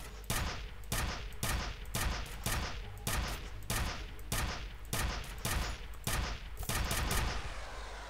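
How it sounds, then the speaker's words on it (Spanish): Rapid bursts of gunfire from the first-person shooter game F.E.A.R., loud sharp shots repeating in quick volleys over about eight seconds with a dense, sustained roar between them and no talking. "Yo no sé cuántos tiros en la cabeza le tengo que meter al pavo este para que se muera"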